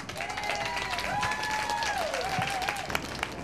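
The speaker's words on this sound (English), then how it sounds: "So let's give them all a big round of applause." A crowd at an International Women's Day gathering gives a round of applause, sustained even clapping throughout, with a faint tonal ringing or whistle-like sound drifting above it.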